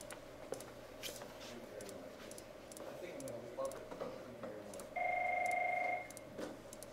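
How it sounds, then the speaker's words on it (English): A telephone rings once with a steady electronic trill lasting about a second, set against a busy room with background chatter and keyboard-like ticking. "The phone rang."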